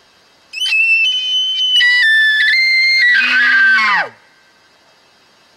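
A reed elk call imitating a bull elk's high-pitched mating bugle sounds loud and close: a sustained whistling tone stepping upward, then a rough descending squeal that drops off abruptly.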